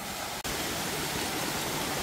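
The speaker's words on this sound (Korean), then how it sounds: "여기 올라오니까 또 이런 폭포들이 형성이 돼 있고" A waterfall in the Myungji mountain valley, heard as a steady roar of falling water that fills the whole stretch, with one brief dropout near the start and no voices.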